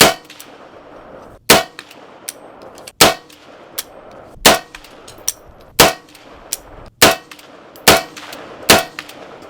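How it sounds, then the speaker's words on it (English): A .30 caliber rifle fires about eight sharp, loud shots at uneven intervals, roughly one a second, each with a short ringing decay, while a Peak 30 suppressor is tested outdoors on a cold day. "And we're gonna shoot it unsuppressed, and we're gonna put the Peak 30 on there and see where the gun starts to operate."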